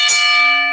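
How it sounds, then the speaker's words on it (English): A single bell struck once for a podcast, a bright ringing tone with steady overtones that sustains and slowly fades, close and loud with no talking. "I forgot to ring the bell."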